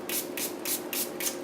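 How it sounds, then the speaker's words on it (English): A hand spray bottle misting witch hazel onto a bath bomb mixture, five or six quick close hissing spritzes in an even rhythm with no talk. "spray it with a little bit of witch hazel until it's"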